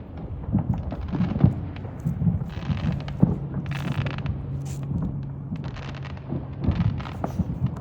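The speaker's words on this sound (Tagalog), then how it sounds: "yan ang daming fireworks" Fourth of July fireworks seen from a house rooftop, heard as distant rumbling booms and crackles over a steady background roar, like far-off thunder.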